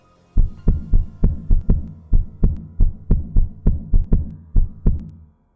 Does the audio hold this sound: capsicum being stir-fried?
no